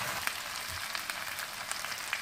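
Chicken browning in ghee in a karahi for an Afghani chicken karahi, giving a steady, moderately quiet frying sizzle with faint crackles and occasional soft pops throughout.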